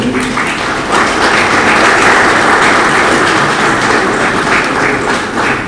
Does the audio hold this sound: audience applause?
yes